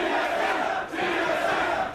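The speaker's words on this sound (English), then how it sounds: "The crowd chanting their favorite tri-codes for their favorite team." A large esports arena crowd at a League of Legends match chants team tri-codes, a loud continuous roar with a brief dip in the middle.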